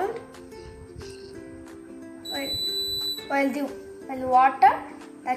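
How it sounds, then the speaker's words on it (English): A homemade water-alarm buzzer, triggered when water touches two foil-wrapped wires, sounds a sustained electronic tone that holds steady while someone talks over it. "This will make this, the buzzer will make the sound"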